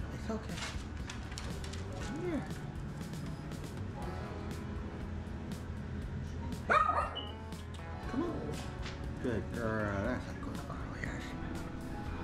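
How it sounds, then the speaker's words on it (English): Dogs bark and yip at a television indoors, scattered short barks and whimpers of moderate loudness mixed with background TV sound and a person talking. "They're barking at the TV because they're crazy."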